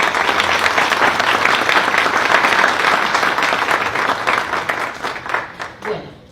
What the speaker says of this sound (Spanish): pedirles por favor palmas para las personas que trabajan en esa institución